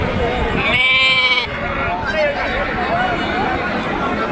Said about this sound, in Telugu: 20 పెద్ద పొట్టేళ్ళ పిల్లలు అన్న, మాచర్ల పొట్టేళ్ళ పిల్లలు.